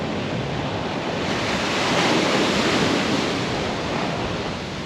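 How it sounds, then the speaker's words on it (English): Ocean waves wash continuously into a Thailand inlet, a broad, loud roar of surf mixed with wind buffeting the microphone, with no talking. "have a look at the waves here"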